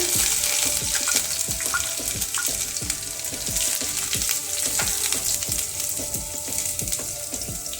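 Garlic and ginger frying with roasted cumin in a pan for a capsicum and potato dish, a dense crackling sizzle with constant small pops and stirring scrapes throughout.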